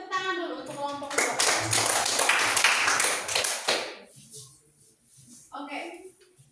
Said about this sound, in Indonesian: kita tepuk tangan dulu untuk kelompok kedua